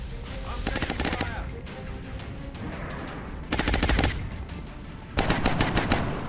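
Rapid automatic gunfire from the XCOM Long War strategy game, with three loud bursts of machine-gun fire separated by quieter echoing rumble and debris noise.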